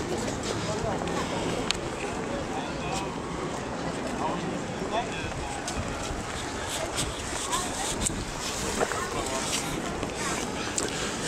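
Strong, gusty wind buffets the microphone on Universitetska Street in Kharkiv, a steady loud rushing roar that continues throughout, with a voice talking underneath.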